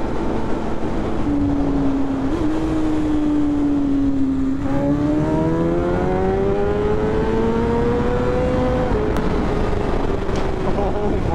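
A BMW S1000RR sport bike revs hard through a tunnel at night, engine pitch climbing in long sweeping pulls toward the rev limiter, loud and sustained over steady road and wind roar.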